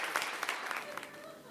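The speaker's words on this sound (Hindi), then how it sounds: "बहुत जोरदार तालियों से सुरेश को आमंत्रित करिए।" Brief burst of audience clapping at a Hindi comedy poetry show, a short spatter of hands that quickly fades.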